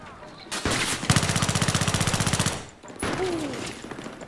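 Automatic gunfire in a co-op video game, a rapid burst of about two dozen evenly spaced shots preceded and followed by louder blasts, close and loud with game noise around it.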